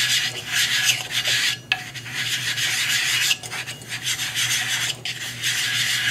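A grinding rasp runs steadily while a clipper blade hone plate is charged with grit, with brief dips and breaks in the scraping and no talk.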